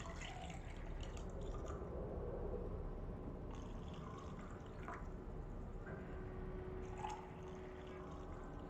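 A liquid solution pours in the video game Control, a continuous, even trickle with scattered drips and small splashes, heard close and alone over steady background noise.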